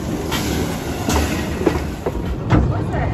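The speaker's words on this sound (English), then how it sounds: "And our final loco of the day rolls into the station" Talyllyn Railway's No. 4 Edward Thomas, a narrow-gauge steam locomotive, rolls into the station, a steady loud rumble of wheels on rail with rhythmic clacks over the joints and a few louder knocks near the end.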